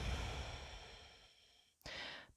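A slow, soft exhale during a yoga breathing exercise, one long airy breath that fades into near silence, followed by a brief rustle and another quick breath close to the mic.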